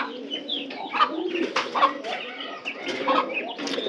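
A pigeon coos in soft, repeated throaty calls, close by, with faint rustling and other bird sounds in the background; a female pigeon near egg-laying.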